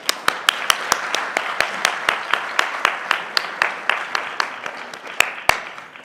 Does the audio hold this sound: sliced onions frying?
no